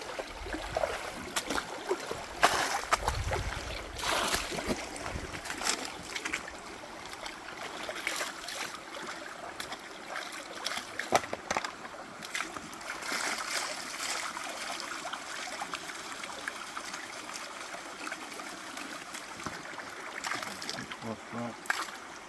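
A gold pan is swirled and washed out in river water, giving steady close sloshing and trickling with occasional splashes over a continuous stream background.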